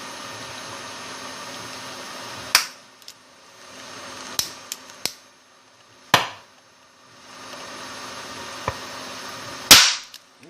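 Four sharp, loud snaps or pops of hydrogen gas igniting at irregular intervals, each cutting through a steady background hiss and hum of a hydrogen generator, with quieter clicks in between.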